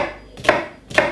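A knife slicing down through a homemade lasagne, two short crisp cuts about half a second apart, close and clear with no voices.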